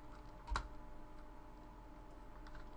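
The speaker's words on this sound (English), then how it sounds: "We will type something like hello," Fingers type a short word on a computer keyboard, a quiet string of light key clicks with one sharper tap near the start, heard alone in a calm room.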